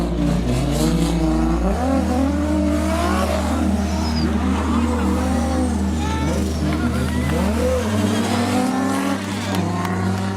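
Race car engine revving and accelerating through gear changes, loud and close, the pitch climbing and dropping in steps, with people talking over the roar.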